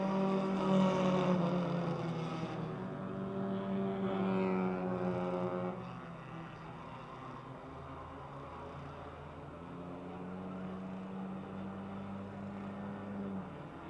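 Stock cars race around the Motordrome Speedway, with engine whines rising and falling as they pass, moderately distant and steady across the stretch.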